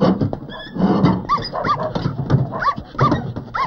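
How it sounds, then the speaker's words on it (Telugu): A fluffy pet dog barks and yips repeatedly in short uneven bursts, with some whimpering whines in between, close and loud in a comedy film scene. "బొచ్చు కుక్క ఒకటి ఉంది, ఉండని చెప్తా."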